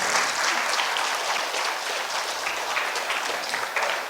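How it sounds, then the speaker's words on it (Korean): Listeners applaud during a 2019 lecture on high school choice for military families. Dense, steady clapping from a sizable audience continues at even strength from start to finish. "대개 보면 이때 되면 박수 치고 막 그러는데"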